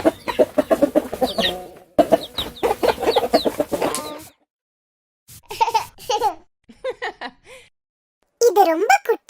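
A hen clucks in bursts with pauses between, mixed with chirpy voices, loud and close.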